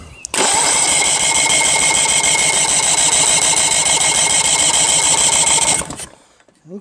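An Evinrude outboard motor on a Starcraft boat is cranked and fires up, running loud and close with a steady rapid engine drone for about six seconds before cutting off abruptly.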